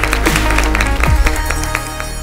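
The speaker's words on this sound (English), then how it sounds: "Please give him a huge round of applause" An audience applauds at a televised spelling bee competition, a dense burst of loud clapping with sharp hand claps and a faint low rumble beneath.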